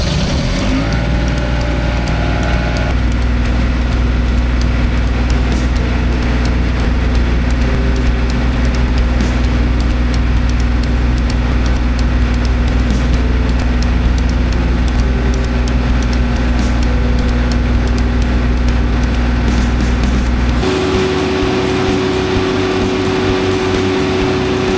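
Engine-driven welder mounted on a Shop Equipment Welding trailer runs at a steady, loud drone for the whole stretch, the engine tone shifting once near the end as the load changes, with no talk over it.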